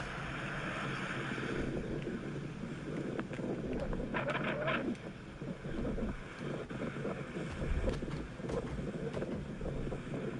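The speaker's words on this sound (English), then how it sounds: "it's crazy because the wind started blowing when I came out." Wind blows outdoors in a steady, moderately faint rush that buffets the microphone, with small flutters and gusts rising and falling throughout.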